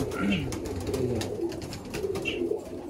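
Pigeons coo softly inside a loft, low throaty calls repeating under a steady background hum while people talk nearby.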